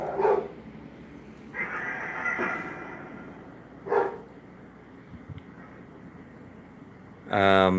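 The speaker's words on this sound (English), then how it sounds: "the dogs are upset over the Phasma box" Dogs upset in a house bark in a few short, separated bursts, with a longer louder burst at the end, over a quiet background.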